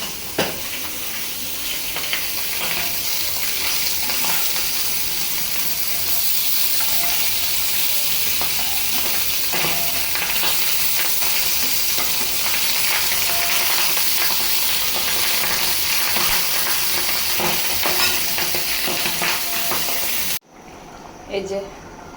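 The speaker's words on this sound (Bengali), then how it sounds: "এই চারটা এই সিমের বিচি দিয়ে রান্না করে রাখি" Bean seeds cooking in a pan give a loud, continuous close sizzle with stirring for about twenty seconds, which cuts off abruptly near the end.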